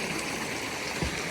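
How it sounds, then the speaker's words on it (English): A creek flows with a steady, rushing hiss of water, close and continuous, with no voices. "creek here"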